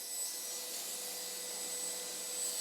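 A vacuum motor with a VEVOR cyclone separator roars steadily with a hissy, high-pitched rush of suction, constant and close, with no talking.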